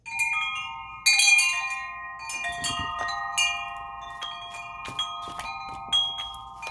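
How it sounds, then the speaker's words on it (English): Large metal chimes ring out loudly with long, sustained tones, struck repeatedly so overlapping notes shimmer and decay, close by. "ring the large chimes to clear out the energy here"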